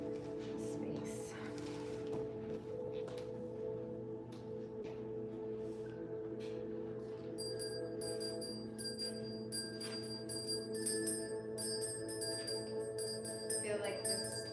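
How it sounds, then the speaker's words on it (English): Tibetan bells ring out in a space being cleansed during an art therapy session, giving clear bright struck tones that recur and shimmer over a steady low drone, with the strikes growing denser toward the end. "I'm going to take a little walk through with the Tibetan bells just to cleanse the space."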